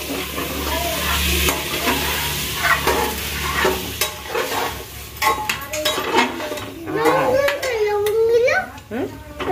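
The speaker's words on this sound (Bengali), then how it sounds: "এই যে এই টাইপের মাটনটা এবার আমি দিয়ে দিচ্ছি।" Small mutton pieces drop into a hot pan and fry with a steady sizzle, while a spoon stirs and scrapes against the cookware, and voices, including a child's, talk over the cooking.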